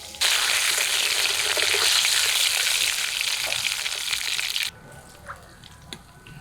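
Pieces of rui fish fry in a pan with a loud, steady broadband sizzle that runs unbroken for about four and a half seconds before cutting off sharply, leaving a quieter background with a few faint clinks.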